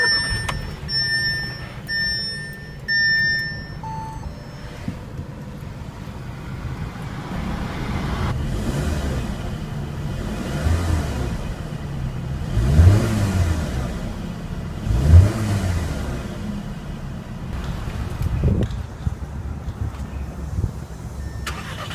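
A 2015 Audi A3 sounds its dashboard chimes, then its engine starts and runs at a close, steady idle, with a couple of brief revs in the middle.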